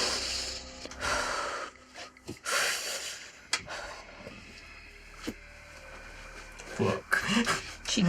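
A voice imitates deep breathing during a tabletop fantasy role-play session, with several loud, rasping inhales and exhales and snorts spread over the stretch, close and uneven, among quieter room noise.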